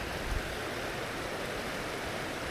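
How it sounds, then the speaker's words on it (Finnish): Wild mountain stream in a highland valley of Finnmark, Norway, rushing steadily as it is waded across, a constant broadband watery roar with no voices. "lähdimme ylittämään villiä virtaa"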